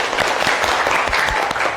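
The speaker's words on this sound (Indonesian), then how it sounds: "Bagus, tepuk tangan untuk Zawa" Classroom applause from students during a lesson, a brief burst of many quick overlapping claps, close and fairly loud, with no talking over it.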